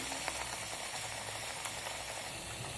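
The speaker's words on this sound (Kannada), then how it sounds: "ಈ ಚಪಾತಿನ ಅದ್ದಿ ಎಣ್ಣೆಲಿ ಕರಿದು ಬಿಡ್ತೀನಿ" Chapati pieces dipped in batter deep-fry in hot oil, a continuous faint bubbling sizzle and hiss with scattered soft pops throughout, no voices.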